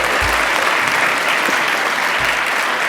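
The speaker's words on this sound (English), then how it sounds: "Yeah, I love this applause." Audience applause at a lecture event, steady broadband clapping from a full crowd that stays loud and continuous throughout, with no talk over it.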